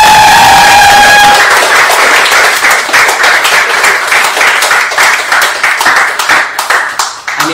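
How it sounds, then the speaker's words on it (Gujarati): An audience at a Women's Day stage event breaks into loud, sustained applause, dense rapid clapping filling the room close by, holding steady for several seconds before thinning slightly at the end. "આ મહાપ્રતિભાવો માટે દિલથી, પ્રેમથી જોરદાર તાળી"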